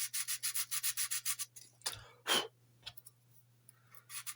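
Filler is rubbed down on an old-tool Airfix B-17 Flying Fortress plastic model, giving quick, soft, rhythmic sanding strokes up close, then a pause with breathing noises before a few more strokes at the end.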